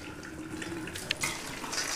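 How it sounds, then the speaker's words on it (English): Water runs and splashes as soaked beans are drained in a kitchen, a brief, close, steady pour with a few small splashes. "Now, we're going to drain our beans."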